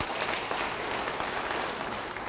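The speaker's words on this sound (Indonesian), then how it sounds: "Beri tepuk tangan bagi dia." Steady applause fills a church service for a preacher, a dense continuous clatter of many hands clapping at moderate volume.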